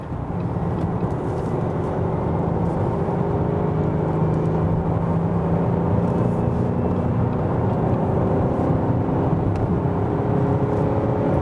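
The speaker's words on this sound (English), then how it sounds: "now it's time for us to do the test between 80 and 140 and see what the car can deliver" An Opel Insignia Grand Sport in sports mode accelerates hard from 80 to 140, its engine drone rising steadily under constant road and wind noise, loud and continuous for the whole stretch.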